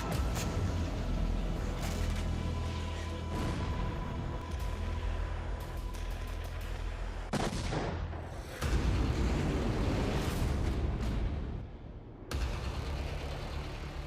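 Heavy military rumbles and blasts on a battleground where artillery, missiles and explosive weapons are being tested, a dense roaring wash of low booms with sudden sharp bursts and cutoffs, loud and continuous.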